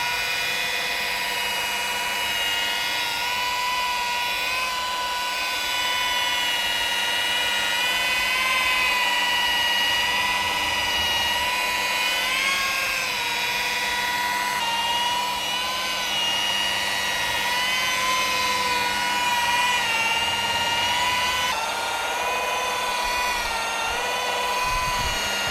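Steady high-pitched whine of a power drill running at about 1500 RPM, sustained for the whole stretch with slight pitch wobbles, loud and close, with no talking.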